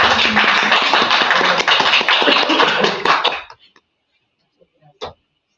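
Applause at a session, a dense burst of many hands clapping loudly for about three seconds, then fading quickly to near silence with one last short sound.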